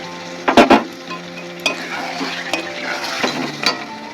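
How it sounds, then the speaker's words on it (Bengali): Sour yogurt dropped into chicken sizzling in oil, with a burst of loud clatter and splatter at first, then steady frying hiss under a few utensil clinks against the pan. "তেল বেরিয়ে আসছে এইবার টক দইটা দিয়ে দিলাম"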